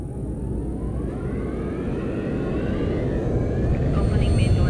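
Rocket-style spaceship engines burning during a phone launch event demo: a steady, loud low rumble that builds slightly over the span, with no talk over it.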